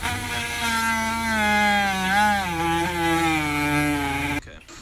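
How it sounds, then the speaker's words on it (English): Power drill whines steadily as it drills out a sticky door handle on a BMW E90, a loud continuous tone that bends slightly in pitch under load, then stops abruptly near the end. "I'll go ahead and drill it out and show it to you."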